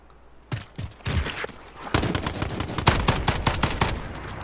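Rapid video-game gunfire in Call of Duty Warzone, a few separate shots at first, then a dense run of sharp rapid-fire reports, loud and close, with no speech.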